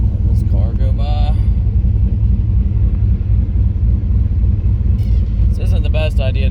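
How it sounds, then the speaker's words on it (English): A car passes along the road near a Mazda Miata, a low rumbling drone that swells and fades under nearby talk. "Let this car go by."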